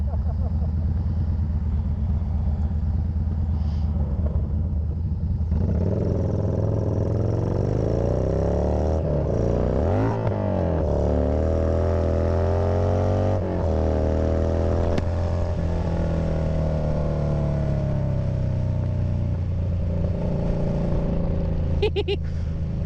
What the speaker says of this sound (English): first impression of the Yamaha Bolt. This thing has a lot of power